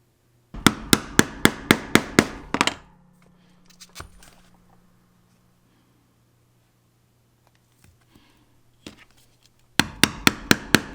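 Hammer blows driving a punch through leather to make stitching holes for a card holder, sharp evenly spaced strikes in quick bursts of about eight, separated by a quiet pause with faint handling noise.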